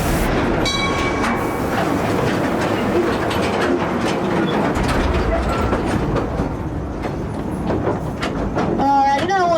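A mine train amusement ride rumbles and clatters steadily along the track in low light, loud and close, with squeaks and a few high whistling tones near the end.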